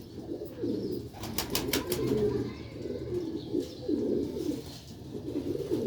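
A pair of tiger pigeons cooing, repeated low throaty coos rolling in a steady rhythm, close and clear, with a brief flutter of higher chirps early on.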